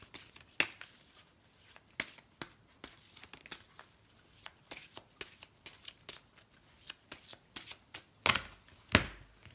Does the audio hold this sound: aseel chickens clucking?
no